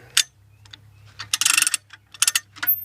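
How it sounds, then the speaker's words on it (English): A chain hoist ratchet mechanism cranked by hand to slacken a chain: close, sharp clicking bursts of the pawl at uneven intervals, with a low steady hum in the background. "crank this off of here until the chain is slack"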